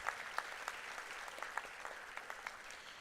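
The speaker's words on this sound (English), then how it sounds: "Let's have a big round of applause." Audience applause at a university inauguration ceremony for an innovation and entrepreneurship bootcamp: steady, fairly faint clapping from a crowd, with a few sharper individual claps standing out through the three seconds.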